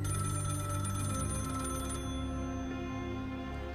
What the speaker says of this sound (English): if you're getting calls on the phone like that